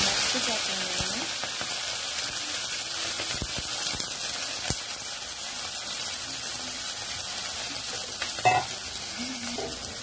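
Green chillies fry in hot oil for a prawn and vegetable dish, giving a steady close sizzle with occasional stirring clatter throughout.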